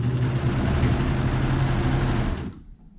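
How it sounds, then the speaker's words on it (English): A sewing machine stitching a neckband seam at a half-inch seam allowance: a steady, close mechanical whir with a rapid needle rhythm, running alone for about two and a half seconds before stopping abruptly. "I'm gonna go ahead and sew with a 1/2 inch seam allowance."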